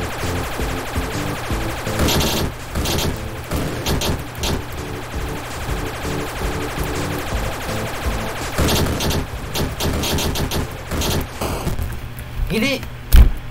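Heavy video game gunfire, with rapid bursts of shots and bullets crackling almost without pause. Loud, close action sounds run throughout, and one sharp thump lands near the end.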